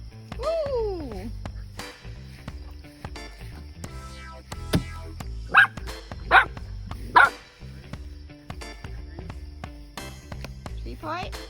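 A dog playing cornhole outdoors gives three loud, sharp barks spaced about a second apart. Someone talks and cheers around them, and a softer whine or yip comes earlier.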